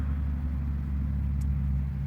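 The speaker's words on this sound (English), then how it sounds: "Sorry about the traffic, guys." Road traffic passes close behind, a steady low rumble of vehicles with no distinct passes, continuous and fairly loud, with no talk.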